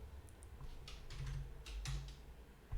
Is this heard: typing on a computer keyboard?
yes